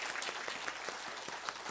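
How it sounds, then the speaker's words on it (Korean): A church congregation at an Easter Sunday service claps together, a brief burst of steady, dense applause from a room full of people, moderately loud and with no voices. "우리 기뻐하는 마음으로 다 같이 박수로서 환영할 때에"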